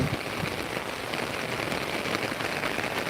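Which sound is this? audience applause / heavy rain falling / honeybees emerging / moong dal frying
heavy rain falling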